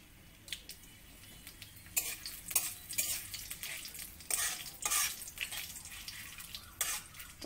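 One dry red chilli goes into hot oil with whole garam masala for a Bengali tempering, giving a soft bubbling sizzle with spatula scrapes and a few metallic clinks against the pan, fairly quiet and without speech.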